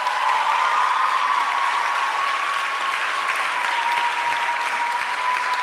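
Steady applause from a graduation ceremony audience, dense and continuous clapping throughout with no pauses, loud and close, no talking over it.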